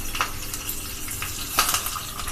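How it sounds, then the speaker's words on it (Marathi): Curry leaves dropped into hot oil for a tempering already crackling with cumin and mustard seeds, a close, continuous sizzle with bursts of sharp spattering pops. "आता आपण त्याच्यामध्ये कढीपत्त्याची पानं घालून घेऊया."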